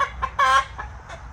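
Chickens on a farm that grows vegetables in greenhouses cluck in a few short, fairly close bursts, the loudest in the middle, with quiet gaps between.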